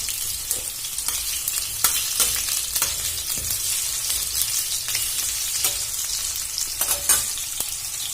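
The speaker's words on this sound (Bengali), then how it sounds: "আলুগুলো উল্টে পাল্টে ভেজে নেব" Potatoes sizzle steadily in a hot pan, with occasional scraping clicks of stirring and turning throughout, no voices.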